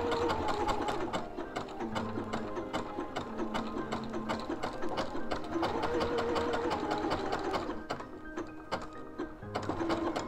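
A sewing machine runs steadily and slowly along a seam beside bias binding on a sweatshirt, its fast needle rhythm continuous and close for the whole stretch with only slight pauses.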